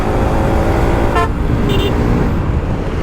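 A car horn gives two short toots on a busy road, standing out over steady, loud engine and traffic rumble.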